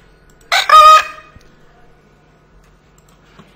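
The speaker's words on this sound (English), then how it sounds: "it's a little voice of an ant going, uh-oh" A short cartoonish sound effect of a tiny ant voice saying uh-oh, heard once as a brief high-pitched squeak that fades into near silence.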